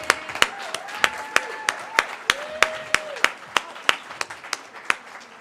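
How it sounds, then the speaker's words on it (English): An audience at a veterans storytelling event claps in a slow, evenly spaced rhythm of sharp claps, with brief whistle-like tones rising over them. "let's give her a round of applause"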